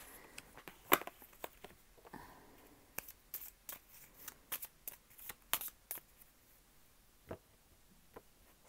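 Oracle cards being shuffled and handled for a daily reading, giving soft papery riffles and scattered sharp snaps and taps, close and fairly quiet, with no voice.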